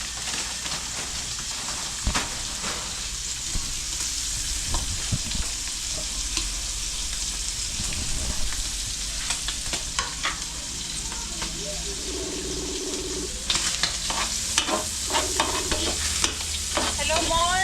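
Pancit noodles stir-fried in a hot pan, a continuous close sizzle with scraping and clanking utensil strokes throughout, brief faint voices in the background.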